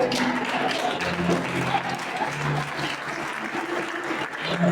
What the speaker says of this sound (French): Continuez à applaudir les Seigneurs.